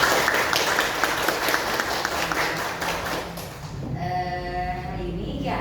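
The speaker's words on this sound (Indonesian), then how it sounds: "Tepuk tangan dulu buat semuanya." Indoor audience applause at a community gathering, a dense wash of clapping for a few seconds that fades out as it ends, with murmuring voices underneath.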